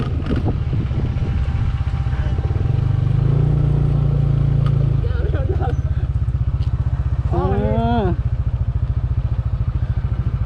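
A motorcycle engine on a mountain-road trip in Ratchaburi runs with a steady, close rumble and swells into a rev partway through, while voices talk over it.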